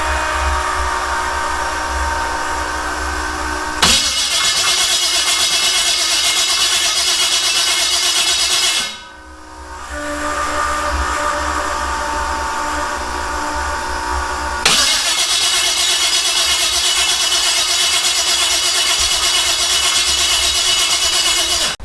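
An LS V8 in a 4x4 rat rod, only partly hooked up, cranks and runs loud and close, a steady roar that cuts out around the middle and then comes back at full volume.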